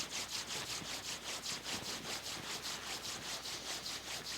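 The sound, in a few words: hands rubbing together during qigong routine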